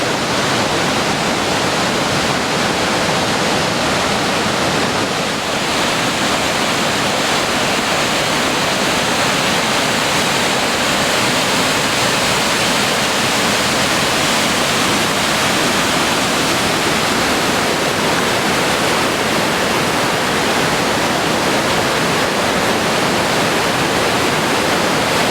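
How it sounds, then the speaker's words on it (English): Boulder River at spring flood stage in Big Timber, Montana, pouring over the top of a dam: a loud, steady, broadband roar of rushing water that holds unbroken for the whole span with no voices. "When the river is really at flood stage from early spring runoff from the mountains, it goes over the top"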